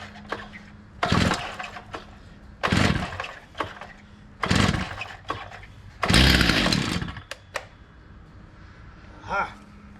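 A John Deere excavator engine is held at full throttle, roaring in several loud bursts of a second or so each, separated by quieter idle gaps, close by.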